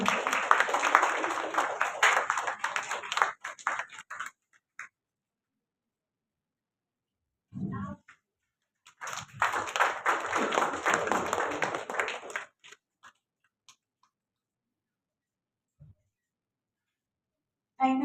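Audience applause at a women's award ceremony comes in two bursts of moderate clapping, each lasting a few seconds, separated by near silence with a brief thump.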